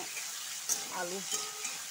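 Potatoes fry in a pan for a banana-flower fritter curry, giving a steady soft sizzle with a few light scrapes of stirring, close and moderately quiet, with no talking.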